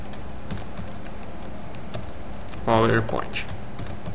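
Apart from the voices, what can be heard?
typing a slide title on a computer keyboard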